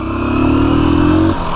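A motorcycle engine running steadily on a test ride after repair, a loud, close, continuous drone with harmonic whine and a slight clatter, ending abruptly after about a second and a half.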